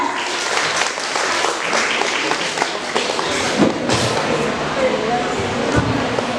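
A school audience applauds steadily at a student council candidates' debate in a junior high, broadband clapping filling the room at moderate loudness with a few sharper thumps and faint voices mixed in.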